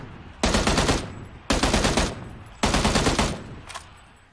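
Three loud bursts of rapid automatic gunfire from a weapon in the video game Apex Legends, each lasting about half a second to a second with short gaps between, close and dominant, followed by a brief shorter burst.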